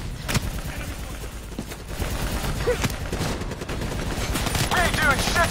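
Gunfire in the video game Call of Duty Black Ops 3 during a campaign battle against an APC and VTOL, dense continuous automatic shots with scattered louder cracks, under in-game voices and battle noise.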